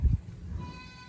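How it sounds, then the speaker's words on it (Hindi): A goat being taken to market for sale ahead of a sacrifice lets out a short, low bleat up close at the start, then quieter rustling and faint background tones follow. "चलो जी बकरी लेके जाने हैं"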